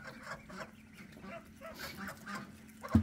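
Geese honking among ducks and ducklings in a farmyard pen, several faint repeated honks over a low background, with a sharper louder sound at the very end.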